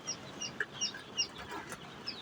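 Chickens in a poultry farm during a storm give short, faint clucks and a few soft calls in quick succession over a low background rumble.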